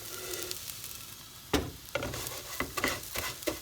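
Vermicelli browns in butter in a pot with a soft, steady sizzle, while a spoon stirs and scrapes through it in several distinct knocks and strokes, close up and without speech.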